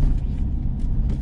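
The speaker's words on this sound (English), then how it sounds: "right now we're in Billy's truck" Billy's pickup truck drives along, its engine a close, steady low rumble filling the cab for a brief moment, with no talking.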